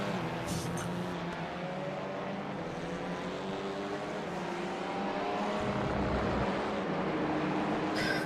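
A race car engine in a ChampCar endurance eRacing event revs steadily and loudly, a continuous droning roar with shifting pitch that runs for the whole stretch with no voices.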